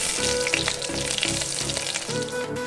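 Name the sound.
eggplant frying in oil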